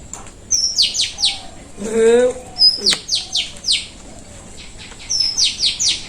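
Birds in a village after rain sing in repeated bright chirps and short trilled phrases, fairly close and clear, with a brief stretch of a person talking in the middle.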